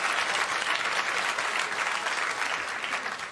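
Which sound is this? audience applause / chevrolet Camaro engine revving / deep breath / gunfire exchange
audience applause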